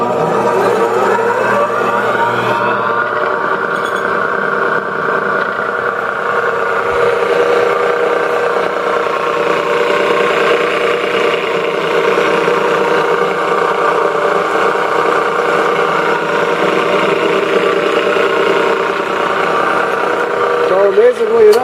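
Steady whirring hum of an old Conquest 20-inch disc sander's electric motor running forward, starting up and holding an even, continuous drone for about twenty seconds with no talk over it.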